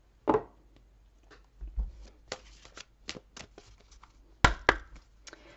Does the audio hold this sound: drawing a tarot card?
yes